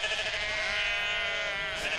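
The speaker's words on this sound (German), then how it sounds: "So wie dieses Gotlandschaf aus Zackelschaf und gotländischem Pelzschaf." A Gotland sheep, a cross of Zackel and Gotland pelt sheep at an open-air farm museum, gives one loud, sustained bleat close by with no talking.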